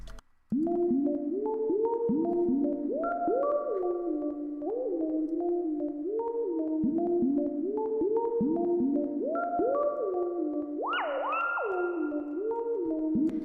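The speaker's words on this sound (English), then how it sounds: "This pluck is out of Electrex" Plucked synth preset from the Electrax plugin, used in a type beat, playing a steady, bouncy melodic pattern of short notes with a bright, wavy tail, loud and alone, with a higher note jumping out near the end.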